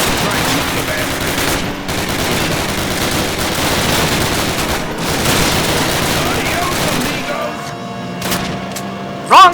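Rapid automatic weapon fire rattles in sustained bursts in Call of Duty, shooting at a German roadblock, loud and close, with brief pauses and a sharp final shot after the firing thins out.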